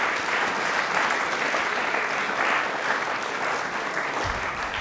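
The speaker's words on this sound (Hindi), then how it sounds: "एक बार तालियां प्लीज इस आयोजन के लिए जोरदार" A studio audience on a Rajasthani television quiz show gives loud applause in honour of the tulip festival, a continuous, even sheet of clapping sustained throughout with no break.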